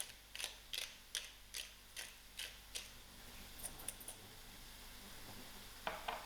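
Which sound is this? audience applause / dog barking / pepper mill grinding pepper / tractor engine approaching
pepper mill grinding pepper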